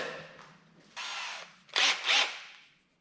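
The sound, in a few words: drilling a pilot hole in wood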